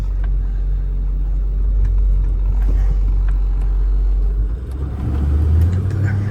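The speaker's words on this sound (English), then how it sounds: "But the truck, even in cold weather, starts up great, idles smooth." A Ford F550 bucket truck with an articulating, telescopic 45-foot boom idles smoothly in cold weather. Its diesel engine gives a continuous low rumble up close, and the tone shifts slightly partway through.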